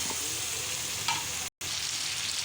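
Washed beef hits a hot pan with a loud, dense sizzle and crackle of frying, steady and close, with a little stirring scrape and a momentary dropout in the middle.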